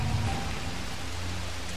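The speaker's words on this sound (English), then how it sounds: "it's raining hard right now" Heavy rain pours in the video game Dead Island Riptide as a dense, steady hiss with a low rumble underneath and no voices.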